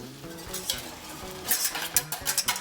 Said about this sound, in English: And let that heat up and sizzle.